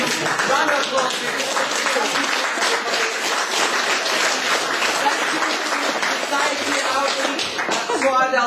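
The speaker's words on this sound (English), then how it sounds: "Can you round of applause?" Audience at a panel discussion gives the panelists a round of applause, a dense, loud, continuous burst of clapping filling the room throughout.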